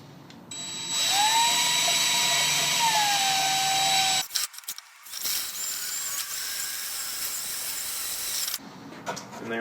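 A power drill with its clutch set at 9 bores slowly through material to make a rain chain, a loud whining hum that falters and drops out midway, then a quieter grinding run before stopping.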